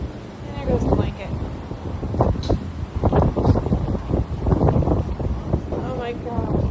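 Strong Santa Ana wind gusts steadily and roughly across the microphone outdoors near young horses, a loud continuous rumbling buffet. People talk and exclaim over it.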